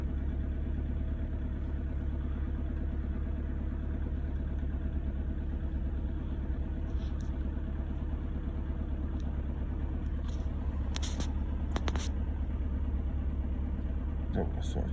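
Cold VW Passat B8 2.0 TDI, 150 hp, idling at raised rpm on a 4-degree day: a quiet, steady low engine hum runs throughout while a person talks over it.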